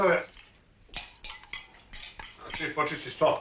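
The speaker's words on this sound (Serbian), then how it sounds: "Ja ću da opeljem sudove." Dishes, pots and cutlery are washed at close range in irregular bursts of clinking and clattering metal and crockery. A brief voice sounds at the start.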